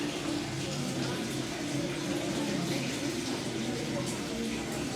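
Water from a spring at a shrine site in Mashhad, Iran, flows continuously in a close, steady rushing splash with no breaks, filling the whole stretch at a constant level.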